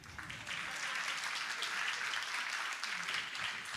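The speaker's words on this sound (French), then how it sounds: "Ah, on applaudit." Applause rises from an audience at a chemistry olympiad ceremony, building quickly after a brief quieter start into sustained, even clapping from a sizable crowd.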